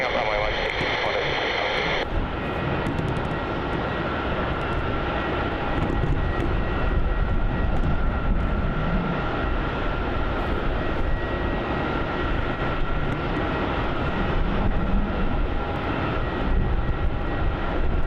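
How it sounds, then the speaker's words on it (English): A Jetstar Boeing 787-8 Dreamliner rolls out after touchdown on runway 16 at Melbourne Airport, its steady jet engine roar loud and continuous, with a brief tonal radio-like hum at the start. "Here we have this Jetstar 787-8 Dreamliner now. That's touched down on runway 16."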